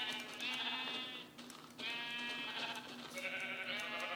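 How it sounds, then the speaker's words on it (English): Several sheep in Minecraft bleat in long, wavering nasal calls, one after another with a brief gap, close and clear against a low steady background hum. "I'm getting some sheep to make a bed."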